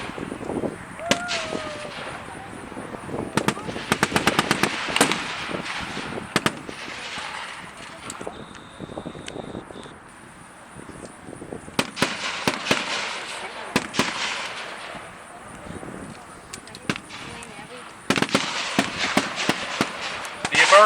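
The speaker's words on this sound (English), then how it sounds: "moving forward with the protection of their 50 calibers and other machine guns on the armored car" Machine gun fire at a WWII reenactment field, with .50 caliber guns on an armored car, rattling in repeated loud bursts of rapid shots across the field, with scattered single reports and voices in between.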